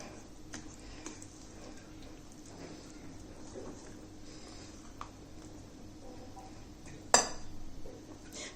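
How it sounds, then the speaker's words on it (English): Batter for a biscuit cake, loosened with milk, gets mixed in a bowl: faint, scattered utensil clicks and scrapes over a quiet background, with one sharper clink near the end. "So give it a nice mix."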